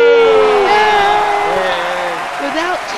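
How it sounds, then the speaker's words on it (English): A studio audience at a giant snail race show cheers, whoops and applauds in a loud, close crowd roar that continues steadily throughout, with voices mixed into the noise. "A round of applause for Tindy!"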